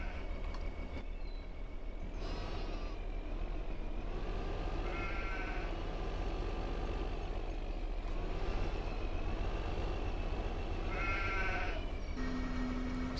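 Sheep bleating in the video game Farming Simulator 2015: several distinct, wavering bleats spaced apart, heard over a constant low engine drone from a farm vehicle.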